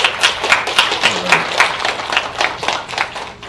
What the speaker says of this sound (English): Another round of applause for Cassidy Schroeder.